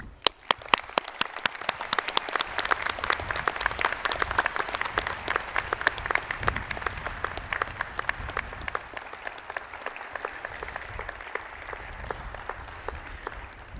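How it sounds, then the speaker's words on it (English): Graduates and guests at a 2021 college commencement ceremony give a long round of applause, sharp distinct claps at first swelling into dense, steady clapping that gradually thins toward the end. "Please give the people who supported you throughout your education a round of applause."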